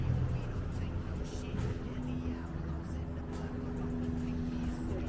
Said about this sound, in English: Just a running police cruiser.